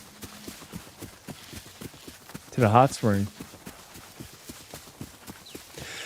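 Horse hooves clip-clop at a steady walking rhythm while riding in the video game Ghost of Yotei, a soft continuous pattern running under a brief spoken line and quiet background sound.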